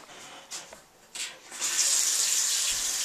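A tap is turned on and water runs steadily, faint at first and then building into a loud, continuous rushing stream after a few brief splashes, with no talking.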